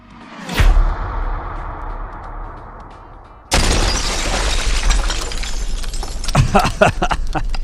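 Glass shatters in a sharp, loud crash, followed after a short pause by a sustained burst of breaking and scattering debris with several bright tinkling impacts near the end.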